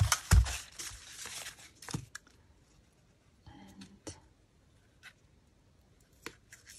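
Scissors snip through sewing pattern paper for a junk journal, a few close crisp cuts and paper rustles up front, then sparse faint clicks and handling noises in a quiet room, with a soft voice briefly present.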